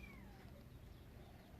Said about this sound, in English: a little bottle feeding of the second kitten